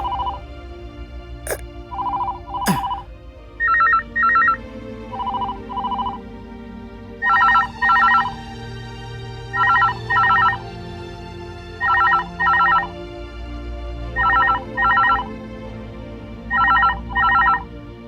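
A telephone rings in repeated paired electronic trills with short pauses between, loud and close, over a low background hum.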